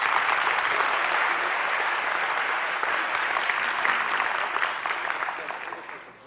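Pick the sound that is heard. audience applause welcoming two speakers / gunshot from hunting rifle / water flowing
audience applause welcoming two speakers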